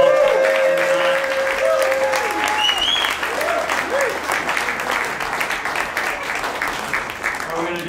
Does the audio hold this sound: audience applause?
yes